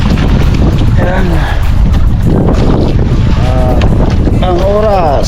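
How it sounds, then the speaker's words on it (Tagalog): A strong northeast monsoon wind buffets the microphone at sea from a small fishing boat, giving a loud, constant roaring rumble while a voice talks underneath. "Di malakas na naman ang hanging amihan."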